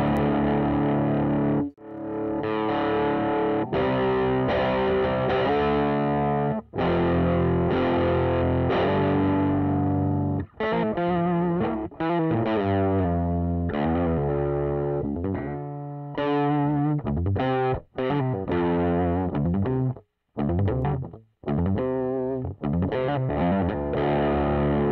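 An electric guitar plays through the Audio Assault Bulldog metal amp simulator with the gain set low, giving a lightly driven tone over chords and riffs with brief pauses.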